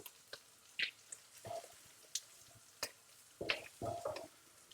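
Bacon pieces of mixed sizes frying in a pan, with soft crackling sizzle punctuated by sharp pops and spits, plus a few louder clatters near the end, fairly quiet and close.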